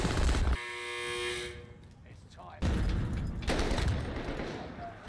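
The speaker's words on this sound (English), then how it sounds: "he's shooting me from the box" Gunfire in Call of Duty: Warzone on the Caldera map, loud bursts of automatic shots that start and stop across the moment, with a person talking over part of it.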